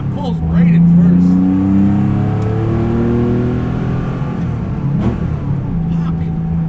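A rat-rodded 1970 Porsche 911 accelerating hard in first gear, its engine note climbing loudly and steadily from up close, with a voice talking over it.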